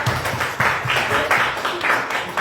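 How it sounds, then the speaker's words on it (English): Audience applause at a conference panel on journalism and media viability, a steady patter of many hands clapping in a medium-sized room, fairly loud and continuous throughout. "I don't know what you're clapping for"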